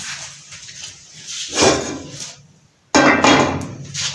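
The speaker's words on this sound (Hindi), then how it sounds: "सबसे पहले हम पैन लेंगे, उसको चूल्हे पे रखेंगे।" Two dull metallic knocks as a pan is set down on a stove while making jalebi, each a short clatter with a ringing tail, separated by a moment of quiet.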